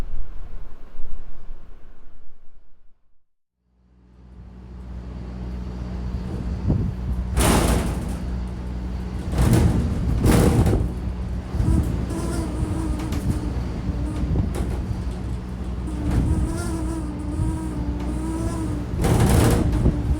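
A bus shelter on Shetland buffeted by wind while waiting for the ferry to the mainland, with a constant low roar, rattling and creaking, and several sharp knocking bangs against the structure, fairly close and loud.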